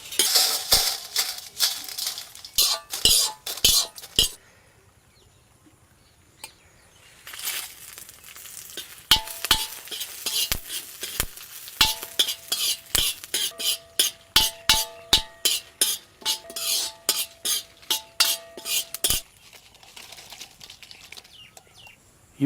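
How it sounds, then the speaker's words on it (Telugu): Fried garlic scooped from a pan onto a plate, heard as a series of sharp metallic scrapes and taps, some in quick rhythmic runs and some spaced apart, with a short quieter gap, close and no talk. "ఇప్పుడు వీటిని ఒక ప్లేట్లోకి తీసేసుకుందాం."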